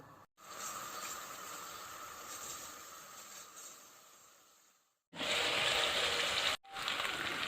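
Sliced onions sizzle in hot oil on the stove for a mutton curry, a steady close hiss that drops out briefly before returning louder and more crackling.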